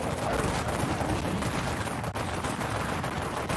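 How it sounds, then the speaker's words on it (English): Rifle fire in a co-op shooter, a rapid, unbroken stream of loud, close shots over dense battle noise, with no voices. "I'm just hitting her with a rifle, saving some ammo"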